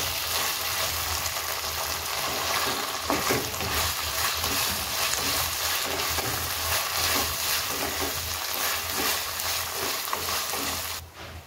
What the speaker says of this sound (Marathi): यामध्ये मी आता 2 हिरव्या मिरच्या पण टाकून घेते आणि 1 चमचा आलं लसूणची पेस्ट. आपण ढवळून घेऊया सगळं आता.